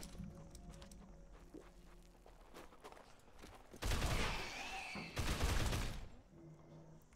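Heavy gunfire in the Dead Island Riptide game, two loud sustained bursts of rapid fire following quieter background action noise.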